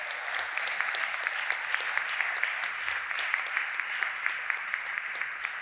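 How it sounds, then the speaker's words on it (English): An audience at a hall of fame induction ceremony applauds continuously, a dense, even wash of many hands clapping at steady volume from start to finish. "Let's give him a round of applause,"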